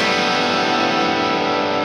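A thick, sustained chord on a distorted electric guitar, a Gibson Les Paul Special with single coil pickups through a Fulltone OCD overdrive pedal, gritty and loud, held steadily without any talking.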